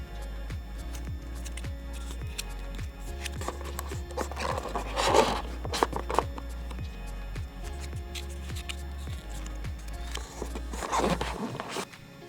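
Cardboard sides of a coaster counter display unit are folded in by hand, producing close rubbing and scraping cardboard sounds with a couple of louder crinkling bursts over a low hum.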